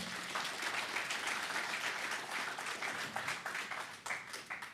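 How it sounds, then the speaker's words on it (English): A round of applause for a team at an energy-week conference, many hands clapping steadily with rising and falling bursts, heard at moderate distance. "can we please give a round of applause to this great team"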